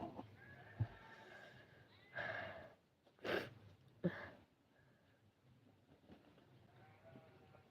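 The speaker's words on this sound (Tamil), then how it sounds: "ஆடு கத்தி உயிர வாங்குதே" A goat on a farm bleating in several loud, close calls spaced a second or so apart over quiet outdoor background.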